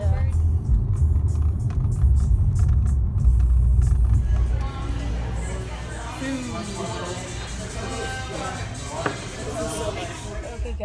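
Inside a car driving on the road, a loud steady rumble of tyres and engine fills the first few seconds, then eases to a quieter drone under people talking.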